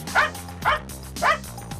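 A State Border Guard Service security dog barks three times in quick succession, close and fairly loud, sharp woofs evenly spaced in a short burst with no talk.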